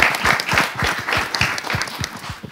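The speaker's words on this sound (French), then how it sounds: "On applaudit pour monsieur le stagiaire pour moi?" An audience at a school event applauding, a brisk steady patter of many hands clapping close by for a couple of seconds without talk.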